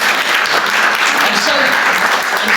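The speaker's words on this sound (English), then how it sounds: "Give him a round of applause." An audience claps steadily and fairly loudly through the whole stretch at a church Easter talk, with dense, continuous applause and a voice faintly underneath.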